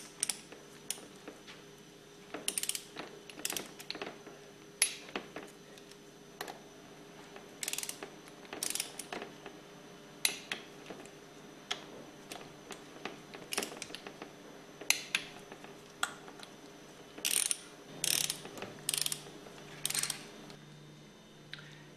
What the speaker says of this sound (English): Torque the head bolts to 175 inch-pounds in a crisscross pattern